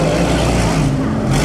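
Vintage Alfa Romeo racing cars in the Mille Miglia road race, a loud, dense engine roar rushing close by without a break, with a faint voice buried in the din.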